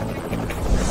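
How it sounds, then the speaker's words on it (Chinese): A helicopter passes with a steady, broad rotor roar, close and fairly loud, with no voices over it during this brief moment. "直升机"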